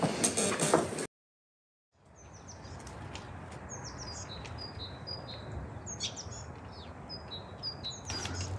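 Birds chirping in a park in spring: many short, high tweets and calls scattered over a steady outdoor hiss, moderately distant and soft, following a brief loud noise and a second of silence at the start.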